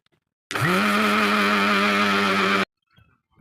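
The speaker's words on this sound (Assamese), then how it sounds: "পুৰাকৈ গ্ৰেইণ্ড কৰি ল'ম মিক্সাৰত এতিয়া" A mixer grinder grinds sesame seeds, whirring loudly for about two seconds, its motor whine rising at the start, then holding steady before cutting off abruptly.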